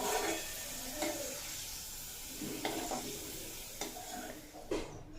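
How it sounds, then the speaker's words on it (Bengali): Sliced onions frying in refined oil for an egg dish, with a soft continuous sizzle broken by intermittent stirring scrapes and clinks, fairly quiet and close. "পেঁয়াজ দিয়ে বেরেস্তা বানিয়ে নেব।"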